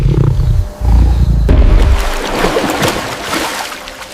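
A lion roars in the African wild, heavy low rumbling bursts filling the first second and a half, followed by a dense, noisy wash of rustling and broadband sound that carries on to the end.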